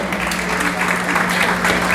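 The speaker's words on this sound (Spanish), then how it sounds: "un aplauso" Applause from an audience at an educational innovation conference session, a steady wash of many hands clapping for the full two seconds, moderately loud, with a faint voice in the background.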